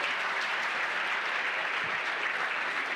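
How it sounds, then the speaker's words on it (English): Audience applause fills a room at a book launch, steady dense clapping from many hands throughout, with no voices rising above it. "Let's clap for those who are 50 and above and they're in the room"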